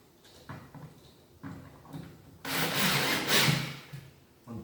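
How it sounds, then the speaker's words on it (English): Screws being driven into a roof deck during a soft-spot repair beneath shingles, heard as close, intermittent grinding and rubbing bursts of wood and metal that build into a louder, sustained stretch midway. "I'm just going to basically start tightening one of the screws"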